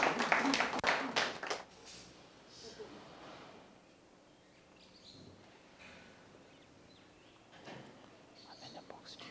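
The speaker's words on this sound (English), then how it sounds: "So we need to clap for them and have another group." An audience at a men's retreat claps for a group, giving a short, dense burst of applause at the start that fades into murmuring and quiet talk, with a few scattered claps later.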